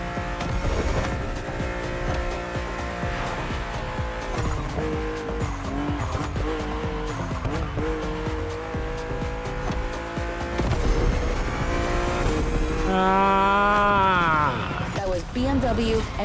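A BMW M2 CS races in The Crew Motorfest, its engine droning loud and constant with rising and falling revs and squealing tires as it skids hard near the end, a voice talking over it.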